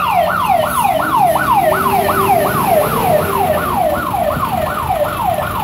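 A wailing intensive-care ambulance siren sweeps up and down in rapid, steady cycles, loud and close, with traffic rumbling underneath, amid a protest march blocking the road.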